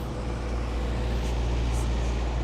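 A truck passes in Manhattan city traffic by the Hudson River Greenway, a steady low rumble of engine and road noise close by with a faint hiss from air brakes.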